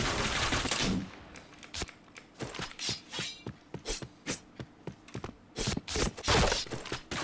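Rapid bursts of gunfire in a shooter video game, a sustained volley at the start followed by a string of loud, sharp single shots and short clusters at an irregular rhythm.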